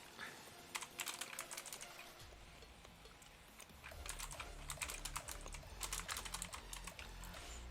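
Typing on a computer keyboard while coding in VSCode: rapid, uneven clusters of close key clicks with short pauses, over a low steady hum.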